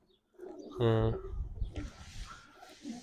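A pigeon gives a single short, close coo, followed by people talking nearby.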